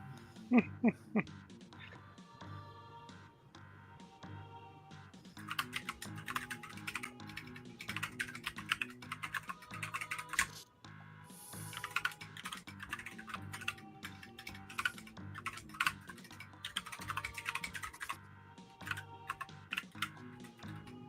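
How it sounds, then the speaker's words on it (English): Typing on a computer keyboard during an open-topic discussion call, a steady run of fast clicking keystrokes heard close up, continuing through most of the stretch with brief pauses and a faint voice in the background. "I heard somebody was typing and I didn't want to interrupt."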